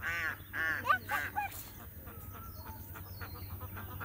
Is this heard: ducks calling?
yes